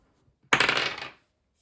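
A single throw of dice in a savings challenge game: one short, close clatter as the dice hit and tumble across a hard surface for under a second, then silence.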